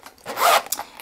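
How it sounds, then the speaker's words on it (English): A Louis Vuitton pencil case's zipper with an LV ring pull being drawn, one quick close rasping zip lasting under a second, then a couple of faint ticks, with no voices. "You've got the Louis Vuitton LV ring pull for the zipper."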